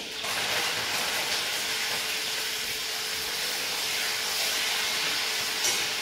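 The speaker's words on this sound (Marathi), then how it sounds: "आता आपण कढीपत्ता टाकून घेऊया." Curry leaves dropped into hot oil with green chillies for vermicelli upma, giving a steady, loud broadband sizzle and hiss that holds for the whole stretch with no voices.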